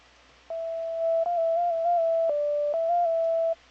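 A synth lead in FL Studio plays a clean, sustained tone with vibrato and reverb, holding a few stepped notes with small pitch bends for about three seconds, then cutting off into silence.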